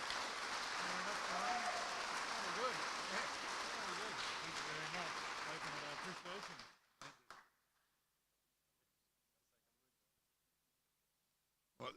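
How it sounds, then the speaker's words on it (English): Applause fills the room at an aircraft launch event for the 750XL-II SuperPac, a broad steady clapping with voices murmuring beneath it that fades out after several seconds into near silence. "A round of applause, please, for Brian Hare."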